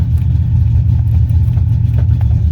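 An old carbureted engine, sitting unused for months, idles low and steady just after a cold start, a loud, rumbling, slightly uneven chug with no talk over it.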